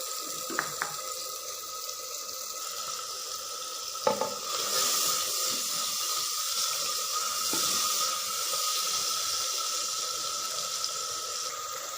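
Water runs steadily into a cooking pan of frying spices, with a faint sizzle, a continuous hissing stream heard up close with a few small clinks.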